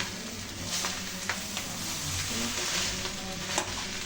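Rice is mixed with tamarind water in a bowl for panta bhat, producing a soft, continuous wet squishing and stirring with small clicks scattered throughout, close and fairly quiet.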